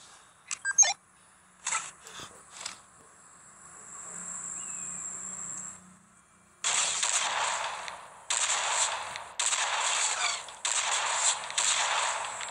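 Gunfire in the tactical shooter video game Sierra 7, starting with a few sharp isolated shots and then switching to long sustained bursts of rapid automatic fire, loud and close, with a faint hum in the quieter stretch between.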